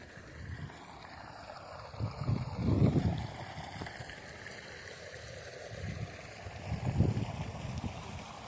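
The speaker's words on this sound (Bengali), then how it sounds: "আর এখানে বোর মোটর চলছে আমাদের।" A bore well motor pump runs outdoors with a steady low rumble that swells now and then. It is heard alone, with some wind in the background.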